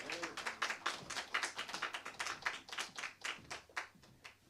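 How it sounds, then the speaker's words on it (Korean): A church congregation at a Sunday worship service applauds as the pastor comes up to preach, a dense, lively burst of clapping from a crowd that holds steady for several seconds. "우리 목사님 나오실 때 큰 박수로 맞이하겠습니다"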